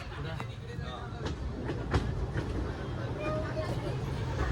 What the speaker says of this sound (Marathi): मेट्रो आली